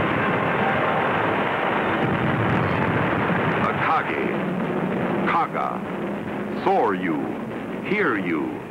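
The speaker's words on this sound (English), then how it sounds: "carrier dive bombers from the Hornet, Enterprise, and Yorktown begin their attack" Explosions and gunfire as WWII carrier dive bombers from the Hornet, Enterprise and Yorktown attack Japanese carriers at Midway in 1942, a dense, continuous roar of blasts under narration with whistling, swooping tones late in the sequence.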